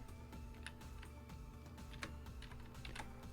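Code being typed on a computer keyboard: quick, uneven clicking keystrokes at close range, with a few sharper key taps standing out over a low steady background hum.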